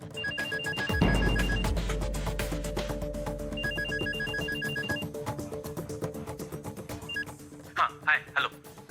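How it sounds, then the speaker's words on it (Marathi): An office desk telephone rings in repeated electronic bursts, fairly near and clear, with a low thud near the start and brief voices toward the end. "तिथे फोन उचल."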